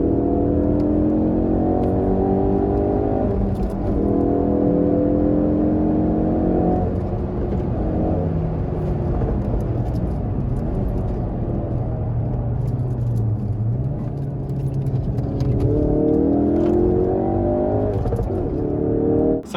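A Ford Focus RS engine revs hard during a launch-control start, loud and close, rising and falling through repeated climbs in pitch with a steady rumble underneath and a whirring drivetrain.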